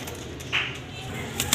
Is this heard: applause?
no